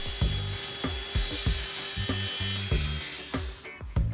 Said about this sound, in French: Il les coupe sur mesure avec une scie sur table.